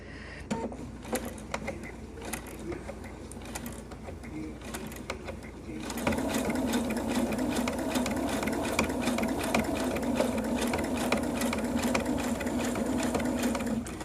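A sewing machine stitches through six layers of fabric for a face mask, a steady close mechanical whir that grows louder and denser partway through and then runs continuously.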